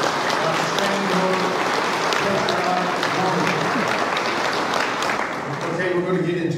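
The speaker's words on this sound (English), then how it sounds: "big round of applause for Mr." Applause from the crowd at a classic Ford F100 truck show awards, steady clapping under people talking, with a voice coming through near the end.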